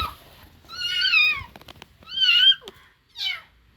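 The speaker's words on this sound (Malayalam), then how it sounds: "ഇവിടെ ഒരു പൂച്ച ഉണ്ട്, നോക്കണം." A cat tangled in a rope meows three times, loud and close, with plaintive drawn-out cries separated by short pauses and a little faint rustling.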